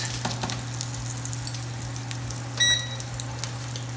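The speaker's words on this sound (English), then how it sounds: "I don't want that butter to burn, I just want it to melt." Butter melts in a pan with a soft, steady, faint sizzle over a low hum, broken by a few small crackles and one brief brighter clink.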